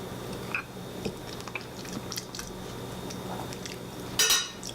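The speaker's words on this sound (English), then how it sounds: "I'm going to taste it for salt" Quiet clinks of a utensil against a bowl and soft chewing while Hawaiian-style ahi tuna poke in marinade is tasted, close and faint, with a sharper scrape near the end.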